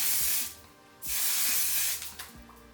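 Two bursts of aerosol spray hissing close by, each about a second long, with a brief pause and a quieter short puff at the end.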